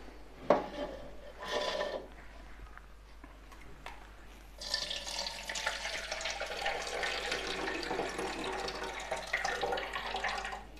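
Water being poured out of an orchid pot after a first watering following repotting, a splashing, trickling flow that starts after a few light handling knocks and continues steadily, fairly close.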